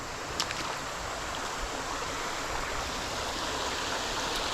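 Creek water flowing over a low old dam in Alabama while the water runs low, a steady broadband rush that stays even and continuous throughout, with no voices.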